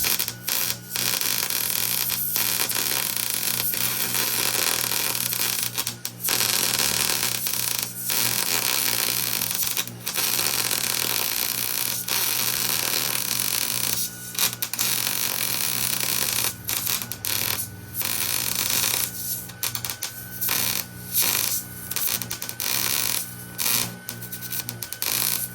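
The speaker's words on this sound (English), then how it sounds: "So now we're gonna go ahead and begin welding." Arc welding a Barnes Pro Series truss onto a preheated Dana 30 front axle, a continuous loud buzzing crackle broken by frequent short pauses between weld beads, close and with no talking.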